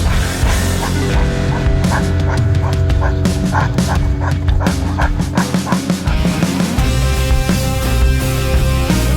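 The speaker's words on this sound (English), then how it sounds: "That West Coast OG Greyline dog out here." A dog barks and yips repeatedly over a loud, busy background of music and crowd noise.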